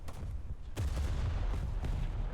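Naval gunfire from the warship HMS Colossus in a naval combat video game: several heavy booming shots, one loud blast near the start and another partway through, over a steady low rumble of battle.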